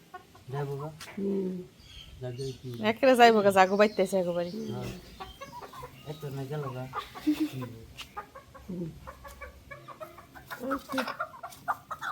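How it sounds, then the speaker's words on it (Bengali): Desi chickens clucking close by in uneven bursts, with a few louder squawks, and some voices talking in the background. "আজকে একদম মুরগি দিয়ে দিছে মুরগা মুরগা দেশি মুরগা"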